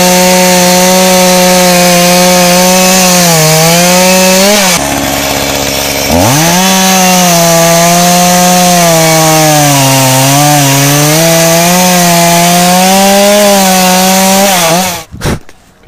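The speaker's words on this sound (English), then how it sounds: "here's a bit of chainsaw action" A loud chainsaw engine whines steadily as it cuts through a windblown tree, dipping briefly under load before revving back up and cutting off at the end.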